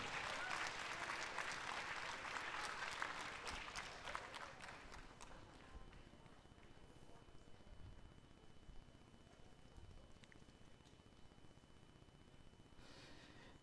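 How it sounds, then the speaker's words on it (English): An audience applauds new sales masters at a 2020 corporate promotion ceremony in Atlanta. The clapping is full and dense for the first few seconds, then quickly fades to sparse, faint claps and near quiet. "please give them a big round of applause for the all new sales masters"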